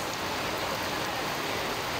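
Heavy typhoon rain pours down in Calamba, Laguna, a dense, steady roar of water hitting surfaces, loud and continuous with no breaks.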